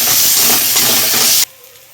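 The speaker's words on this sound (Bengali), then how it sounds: "আদাটা দিয়ে একটু কষিয়ে নেব।" Onion and ginger paste fry in a hot pan with a loud, dense sizzling hiss that stops abruptly, leaving quiet background. No voices.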